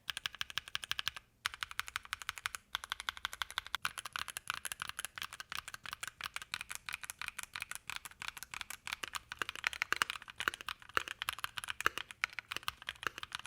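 Rapid, continuous clacking of typing on a mechanical keyboard modded with duct tape, dense crisp keystrokes close up with only brief pauses, no voices.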